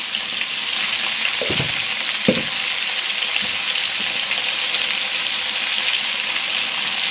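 Chandramukhi potatoes fry in hot oil with salt and turmeric, a loud steady sizzle throughout with a couple of brief stirring scrapes.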